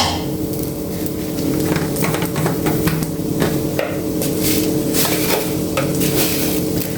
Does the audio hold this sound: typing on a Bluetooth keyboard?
no